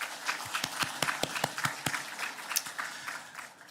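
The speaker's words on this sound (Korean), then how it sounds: "우리 하나님 앞에 먼저 감사의 박수를 한번 올려드리겠습니다" A church congregation applauds, sharp claps starting sparse and quickly thickening into a rhythmic round of clapping that then tapers off.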